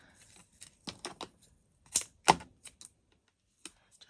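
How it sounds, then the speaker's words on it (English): Foam tape being peeled and pressed onto a handmade Christmas card: a scattered run of short, crisp clicks and taps, with two louder snaps near the middle, close and fairly quiet, with no talking. "So now fiddly bit, adding foam tape, but it has to be done."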